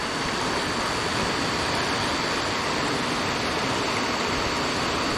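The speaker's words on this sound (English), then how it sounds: "The water level is way higher than I've ever seen it, and flowing quite speedily." A creek swollen by heavy rain rushes fast and high, a loud, unbroken roar of churning water with no voices over it.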